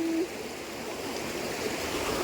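Stream flowing through a forest in the early morning, a steady, soft rushing of water heard alone, with a brief faint tone at the start.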